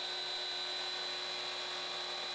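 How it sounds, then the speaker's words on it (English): A gun drill bores a revolver barrel on a lathe running at 2600 RPM with the slowest feed, giving a steady high-pitched whine with a constant tonal hum, unbroken throughout. "The lathe's feed rate is set at its lowest setting and it's at 2600 RPM."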